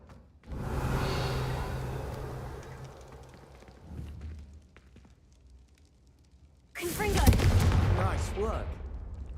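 Confringo spell blasts in Hogwarts Legacy erupt as two loud fiery bursts, the first trailing into a roaring decay and a smaller thump, the second sharper and crackling, with stretches of quieter sound between.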